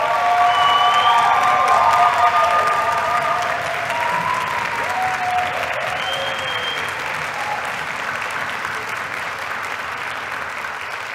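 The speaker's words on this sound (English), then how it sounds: "You deserve every single one of those claps and those whoops." Concert audience at a university wind ensemble and symphonic band performance applauds a tuba player, with sustained loud clapping, scattered whoops and cheers, and faint voices mixed in, gradually easing but continuing throughout.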